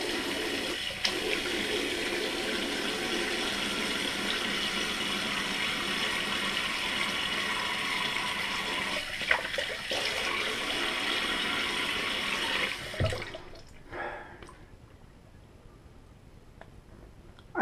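Tap water runs steadily at close range for about thirteen seconds while a face is rinsed after a straight-razor shave with a Kotetsu ko-bunka razor, then shuts off, leaving a quiet room with a few small knocks.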